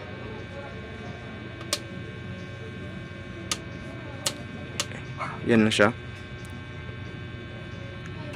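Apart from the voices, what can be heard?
modified sine wave inverter humming in solar setup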